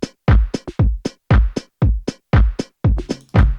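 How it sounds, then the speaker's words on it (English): A house-style drum groove built from a hodgepodge of sampled kicks and hi-hats, with punchy, close hits in a steady repeating pattern and no other sounds. "it's kind of like a hodgepodge of different samples I just threw in together for a kick and a hi-hat."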